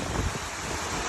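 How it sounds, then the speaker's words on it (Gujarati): Water gushing along the Narmada canal in Gujarat, a dense continuous rushing roar mixed with wind noise on the microphone, loud and close. "ખળવળ વહેતું પાણી છે ગુજરાતનું આ પાણી।"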